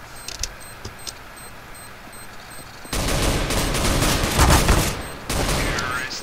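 Gunfire in Counter-Strike: Global Offensive, with scattered sharp shots and clicks followed by a dense, loud burst of rapid fire that runs for several seconds. A player speaks faintly under it.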